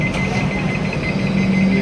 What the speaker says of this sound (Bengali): গেট অটোমেটিক লক হয়ে যাচ্ছে।